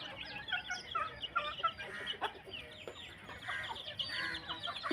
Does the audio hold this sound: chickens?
yes